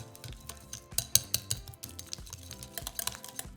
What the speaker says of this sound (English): Just going to cream them together